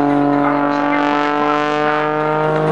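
A 400-plus horsepower aerobatic airplane engine roars loud and continuous at an air show demonstration, a strong tonal drone with a gently wavering pitch that masks the crowd.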